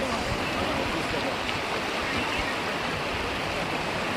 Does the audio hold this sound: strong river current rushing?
yes